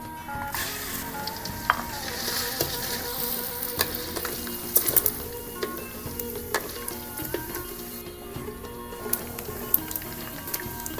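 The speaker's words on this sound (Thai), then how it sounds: "หมู ที่ ซอยไว้ เนาะ เอา ใส่ ลงไป ทอดเลย" Sliced pork frying in hot oil in a pot, a steady dense sizzle throughout with occasional sharper pops and crackles, close and fairly loud, no talking.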